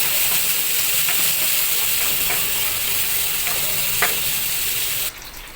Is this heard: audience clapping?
no